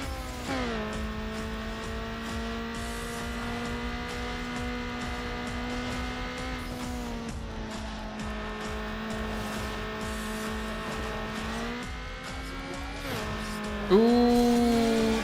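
A tuned car racing in Need for Speed Underground on hard difficulty, its engine droning steadily at a high, sustained pitch with shifts in revs, then a sharp jump in loudness and pitch near the end.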